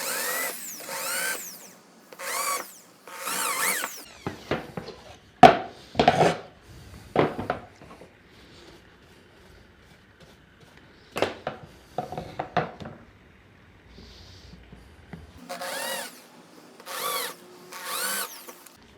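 An electric drill bores holes in scrap wood for a small stool, short loud whirring bursts at close range separated by pauses and lighter handling knocks, with a cluster of quick bursts at the start and end.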